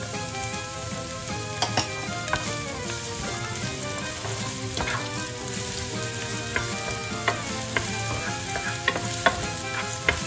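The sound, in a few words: onions sizzling in frying pan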